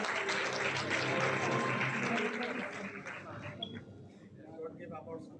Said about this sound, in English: A huge round of applause for their exceptional achievement.